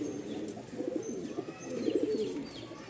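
Pigeons coo softly in repeated low bubbling calls at a busy pigeon market in Mirpur, steady and close with faint ambient noise around them.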